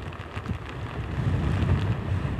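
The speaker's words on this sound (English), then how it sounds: "You can see the wind has strengthened over the past couple of minutes." Storm wind roars in heavy gusts against a microphone outdoors in the town of Louise, Morton County, with rain mixed in, a loud broadband rumble swelling steadily with no voices.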